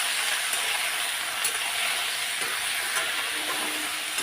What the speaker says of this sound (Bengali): দিয়েই আমি লাউটা দিয়ে দিলাম